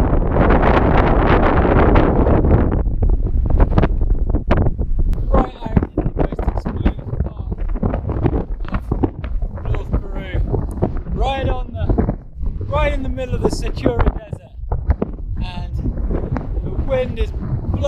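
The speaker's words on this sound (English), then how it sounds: "wind is blowing hard" Strong desert wind on day six of a run across Peru's Sechura Desert buffets the microphone with loud, rough rumbling gusts, heaviest at the start, with someone talking breathlessly over it.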